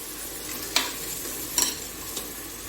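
Goat or mutton meat fries in a pot for a Bannu-style painda dish, a steady sizzle broken by a few sharp scrapes and clinks of a spoon stirring against the metal.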